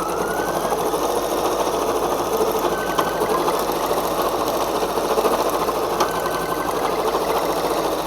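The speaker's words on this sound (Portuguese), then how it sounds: "E vamos mandar a máquina bordar." An embroidery machine stitches a 3D bear ear, its needle running in a fast, even mechanical whir that stays steady and close throughout.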